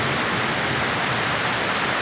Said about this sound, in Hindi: बहुत तेज़ बारिश हो रही है और बढ़ रही बारिश।